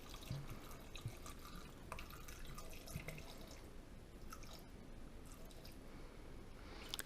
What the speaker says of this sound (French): je vais mettre 250 grammes de vin blanc